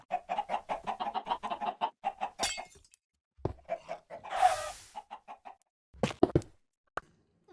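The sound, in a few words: chicken clucking, from A Minecraft Movie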